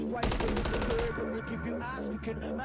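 Rapid automatic gunfire from a video game, a dense burst of shots fired at a bush, followed by continuing game sounds and background noise.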